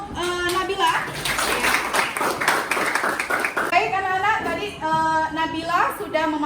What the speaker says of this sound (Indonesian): Beri tepuk tangan untuk Nabila